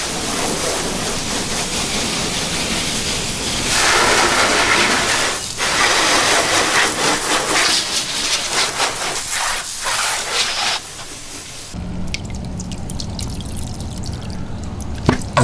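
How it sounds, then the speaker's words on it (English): Water sprays loudly over a vehicle as it is rinsed of loose dust and dirt before a wash, a steady close rushing hiss that shifts in tone as the stream moves across the body panels. "I'm just do a quick rinse of the vehicle to remove any loose dust and dirt off from the vehicle"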